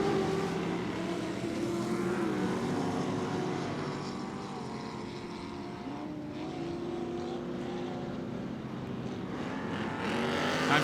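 Ultra4 off-road race cars at the Crandon World Championship track on a Saturday night, a steady, loud engine roar that swells and fades as cars run through a corner into the woods.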